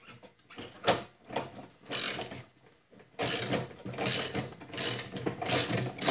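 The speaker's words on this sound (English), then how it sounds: "We need a 9/16 socket and a 1/2 inch wrench." A socket ratchet and wrench work on stubborn self-locking nuts on a Snapper walk-behind mower, giving bursts of rapid ratcheting clicks separated by brief pauses, close and fairly loud, with no talking.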